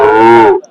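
A single loud cow moo, a long harmonic bellow lasting just over half a second before fading into quiet.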